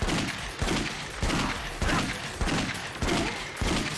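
Majima's upgraded shotgun in Yakuza Dead Souls fires repeatedly in a steady rhythm, roughly every half second. Each blast is loud and punchy, over a busy game background.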